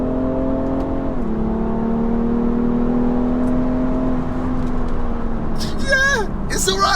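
BMW 335d xDrive diesel held in second gear and revved high toward 5,500 RPM, a steady sustained engine drone with rising pitch, loud and close, with voices breaking in near the end.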